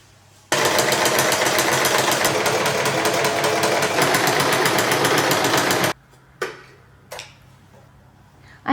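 A sewing machine runs with rapid, steady stitching through fabric for several seconds, then stops, followed by a few isolated clicks and knocks.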